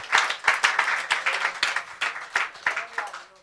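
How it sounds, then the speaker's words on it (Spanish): A church congregation at a discipleship class claps together in a steady, rhythmic burst of applause for the Lord, fairly close and lively, with sharp repeated hand claps and no talking over it. "Darle un aplauso al Señor, claro."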